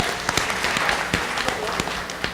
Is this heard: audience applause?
yes